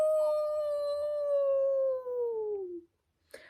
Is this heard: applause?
no